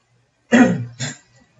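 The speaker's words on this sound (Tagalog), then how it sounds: "Inuubo ako." Two sharp coughs close to the microphone, the first longer and harsher, the second shorter, followed by quiet.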